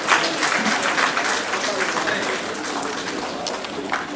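Applause at a Prathibha Puraskar award ceremony for students, a steady crowd clapping that stays loud and continuous throughout, with a voice speaking over it.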